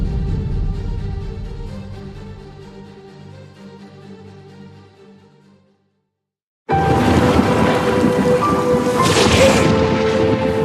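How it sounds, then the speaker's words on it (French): A thunderstorm with steady heavy rain that fades to silence, then returns loud with a crash of thunder and dense downpour, with no voices. "J'avais peur de l'orage à ton âge."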